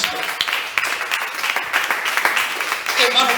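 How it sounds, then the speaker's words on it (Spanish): A church congregation applauds during a sermon, a dense wash of clapping with cheers rising and voices calling out over it throughout. "Dale un aplauso al Señor Jesucristo."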